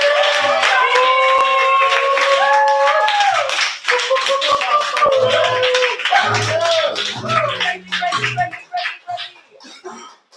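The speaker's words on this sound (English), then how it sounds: "Clap it till Greg gets to the stage" Audience clapping at an open mic poetry slam, a steady burst of applause with whoops and cheering voices over it, thinning out toward the end.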